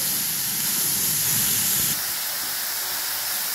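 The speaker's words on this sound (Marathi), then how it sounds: "2 मिनिटं आपल्याला तुपामध्ये गाजर छानपैकी अशी भाजून घ्यायचे" Carrots roasting in ghee for gajar halwa give a steady, close, broadband hiss and sizzle that is louder at first and eases off partway through, with no talk.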